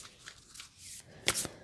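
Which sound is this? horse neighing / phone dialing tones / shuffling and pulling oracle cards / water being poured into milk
shuffling and pulling oracle cards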